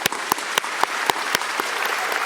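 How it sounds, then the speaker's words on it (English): At a senior graduation, the audience applauds a student speaker: a close, steady bed of clapping with a few sharp, distinct claps standing out at regular intervals. "So how about another round of applause for Aria?"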